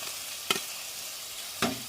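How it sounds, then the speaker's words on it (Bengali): Spice paste of garlic, cumin and coriander fried with tomato paste in oil for fish roe curry, a steady close sizzle broken by two sharp spoon scrapes against the pan. "মশলাটা কষাবো যতক্ষণ না তেলটা ছেড়ে দেবে।"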